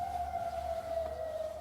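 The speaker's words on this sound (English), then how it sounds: "Air raid sirens signaled the start of a life most Jordanians have never experienced before" A steady, wailing air raid siren in Jordan holds one sustained tone, sounding distant and echoing over a low background rumble.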